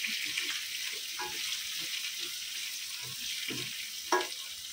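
Chopped onions with salt fry in a pan for a soya greens bhaji, a continuous bright sizzle with occasional soft stirring knocks, close and even throughout.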